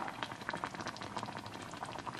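Corn soup with pork slices boiling in a pot, a steady bubbling and popping texture with soft, dense bursts throughout, close and moderately quiet, with no voices.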